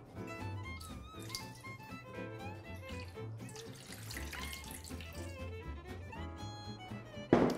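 Water runs steadily from a tap into a bowl for homemade bread dough, a continuous close splashing stream under soft background music.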